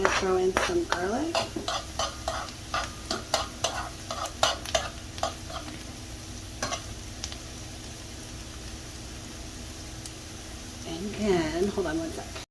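Garlic tossed into a pan of cooked-down onions, a steady sizzle of frying under a run of stirring clinks and utensil scrapes against the pan, with a person talking over it.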